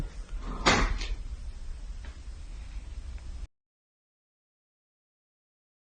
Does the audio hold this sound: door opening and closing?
yes